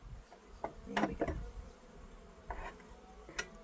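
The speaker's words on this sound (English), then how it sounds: "I'm just getting the last little bees out because obviously there's so few of them" Bees from a tiny colony buzz softly while being moved between hives, a faint close drone broken by a few louder passing buzzes.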